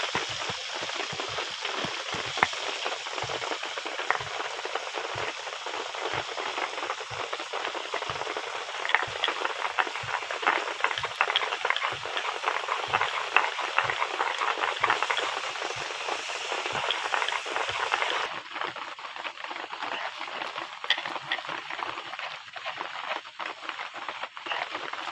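Fish heads frying in a pan of hot oil for a Bengali potato curry, giving a steady dense sizzle with rapid crackling pops that continues throughout and softens slightly toward the end.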